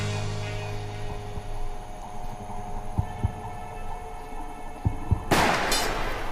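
A speeding bullet fired at a samurai sword blade: after a low steady hum and a few soft thumps, a single sharp, loud crack bursts out near the end.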